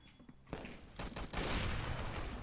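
Gunfire in the Roblox shooter game Arsenal: a dense burst of rapid shots that swells after a brief quieter start and stays loud to the end.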